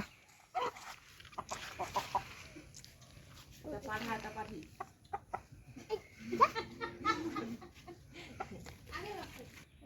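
Two desi hens clucking in a rural yard, short scattered calls close by, heard under ongoing talk with occasional background dog and farm animal noises.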